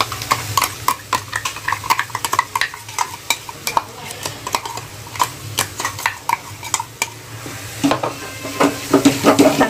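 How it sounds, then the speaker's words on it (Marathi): Paste fries in oil in a pan, a low sizzle broken by frequent rhythmic scrapes and clacks of a spoon stirring against the metal, growing busier toward the end. "चांगली अशी तेलामध्ये फ्राय करून घ्या"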